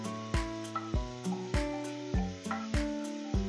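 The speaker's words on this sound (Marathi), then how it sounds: "कांदा व्यवस्थित सोनेरी रंगावर येऊ द्यायचा आहे, आपल्याला व्यवस्थित परतून घ्यायचा आहे." Chopped onion sizzles in hot oil while being sautéed until golden for mutton soup, with steady frying crackle and a regular series of sharp stirring knocks roughly every half second, close and fairly quiet.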